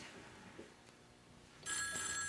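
A telephone bell starts ringing abruptly partway through, loud and close, following a quiet room with faint background sounds; no one speaks.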